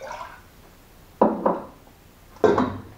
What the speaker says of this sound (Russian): Ставим посуду и наливаем сюда воду.